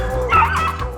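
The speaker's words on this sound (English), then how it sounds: "Once they get hot, they start squeaking, and the hotter they get, the more they start to bark." Rabbit hunting dogs on a hot track give a short burst of yipping, squealing barks, loud and close, lasting about a second.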